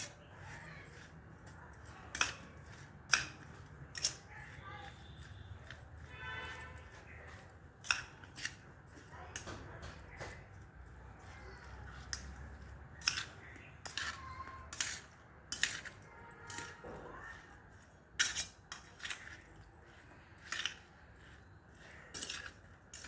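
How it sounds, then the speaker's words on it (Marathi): Cut lemon pieces being stirred with salt for a sweet-sour lemon pickle, a spoon clinking and scraping against a steel bowl in irregular close sharp taps and knocks, with no talking. "मीठ टाकून चांगल्या प्रकारे मिक्स करायचं आहे"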